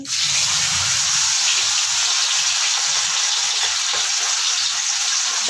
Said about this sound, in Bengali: তেলটা ভালো গরম হয়ে গেছে, এবার আমি মাছগুলি ভাজবো।